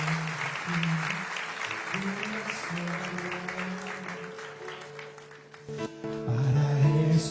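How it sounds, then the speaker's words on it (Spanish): Church worshippers applaud in a steady clatter of hand claps for several seconds, with organ or keyboard chords sustaining beneath and swelling louder near the end. "Dale un aplauso al Señor"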